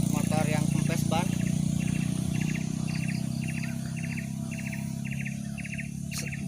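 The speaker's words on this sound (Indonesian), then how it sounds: "Bisa terdengar ya banyak sekali suara-suara burung." Bird calls ring out around a village near a geopark, short bursts of chirps repeating in a steady rhythm over a low, continuous hum, with a few louder chirps near the start.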